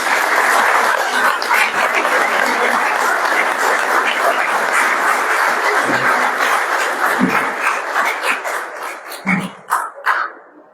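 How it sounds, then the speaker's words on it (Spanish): Sustained audience applause at a municipal session opening speech, a loud dense wash of clapping that thins out toward the end, where a few dog-like yelps or whistles stand out. "Merece un aplauso."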